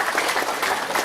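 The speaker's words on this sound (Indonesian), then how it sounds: "Tepuk tangan dulu untuk Indonesia" Audience applause at GP Ansor's 84th anniversary celebration and corn-planting launch at a pesantren in Indonesia: a brief, steady burst of dense clapping from a crowd, moderately loud throughout.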